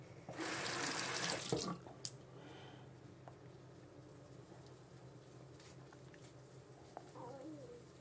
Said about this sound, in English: I'm just going to wet this and start making a foam